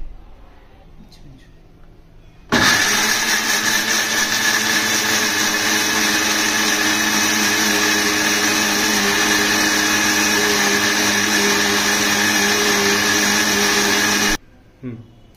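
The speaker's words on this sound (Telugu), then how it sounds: "ఇప్పుడు ఉల్లిపాయ మిక్సీ పట్టుకున్నామండి" A mixer grinder runs on onion in a kitchen, starting abruptly and holding a loud, steady whirring drone for about twelve seconds before cutting off sharply, with faint kitchen sounds before and after.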